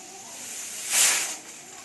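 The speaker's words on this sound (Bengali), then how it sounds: "এই প্রেসার কুকারে দিয়ে দিয়েছে কাবলি ছোলা" A pressure cooker holding kabuli chickpeas lets out a single short burst of hissing steam that swells and fades within about half a second, over a faint steady background.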